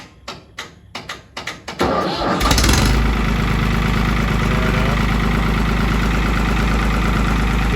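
Hesston 60-66 tractor with a 60-horsepower three-cylinder Fiat diesel, an orchard model, cranks in several repeated bursts before catching, then runs at a loud, steady, throbbing idle up close.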